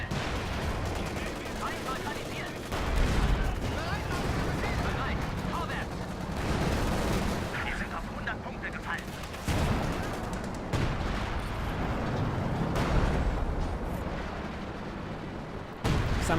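Artillery hits and gunfire fill a WWII strategy video game battle between US forces with Sherman tanks and Wehrmacht troops, a dense continuous din of shots and blasts with a voice talking faintly underneath.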